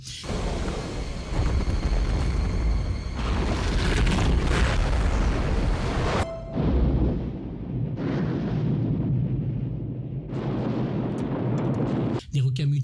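Deep, rumbling film explosions from the movie Deep Blue Sea boom and roll on with a dramatic swell, cutting off sharply before quieter blasts and a final burst.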